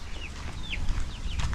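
Darag chickens cluck softly in short, scattered calls over a low outdoor rumble, faint and somewhat distant.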